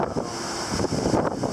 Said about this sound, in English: We have a pretty good stiff west wind coming into, this is Rodney Bay.